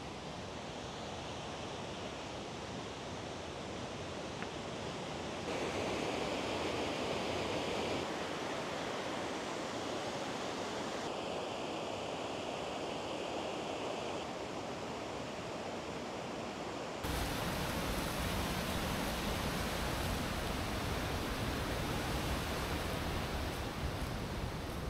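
A side river rushes steadily near Vøringsfossen waterfall in Norway, a dense, constant broadband roar that shifts in level a few times but never pauses, with no voices.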